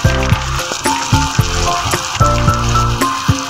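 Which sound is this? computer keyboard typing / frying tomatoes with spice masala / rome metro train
frying tomatoes with spice masala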